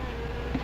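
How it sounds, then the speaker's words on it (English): Wasps buzz in a steady, close drone that fills the whole short moment without pause, with no other sounds present. "Wasp, you better be careful. They can sting a man to death."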